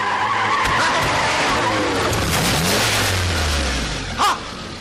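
A car skids hard to a stop, tires screeching loudly for several seconds as the engine growls beneath, ending in a short sharp bump, in a comedy scene.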